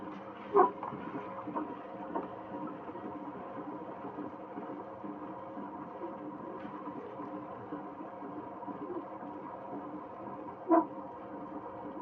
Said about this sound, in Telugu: బాగా నానిన తర్వాత అండి రుబ్బుకోవాలి